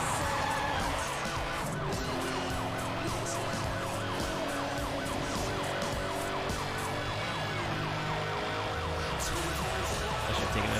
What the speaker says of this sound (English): I don't know what you call this siren, but it sounds pretty cute.